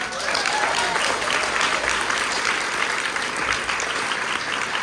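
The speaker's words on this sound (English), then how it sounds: "I'll give yourselves a round of applause, because I'm so grateful for all of you." A large convention audience applauds steadily in a dense, continuous wash of clapping that holds at an even level throughout.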